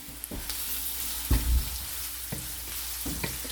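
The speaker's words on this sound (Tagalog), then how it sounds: "so I will saute this first, having my ginger. I want my ginger a little bit toasty" Ginger and coarsely chopped garlic sauté in a hot pan for chicken arroz caldo, giving a steady broad sizzle with a few stirring scrapes and clanks over it.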